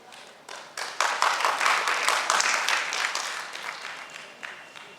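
An audience at the start of a stage programme breaks into sustained applause, many hands clapping densely together, swelling quickly and then holding steady before easing slightly, with no talk over it.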